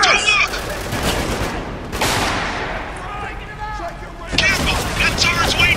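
Heavy turret gunfire in the war shooter Spec Ops: The Line, loud sustained bursts of automatic fire with sharp impacts, close and dense, under shouted voices.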